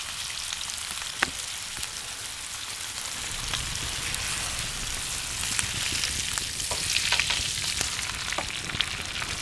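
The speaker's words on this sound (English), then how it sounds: "I'm just going to let that sear and seal the outside before I give it a turn." Over a campfire, a steak sears in hot oil with a loud, continuous crackling sizzle, dense pops and spits throughout, heard close with no voices.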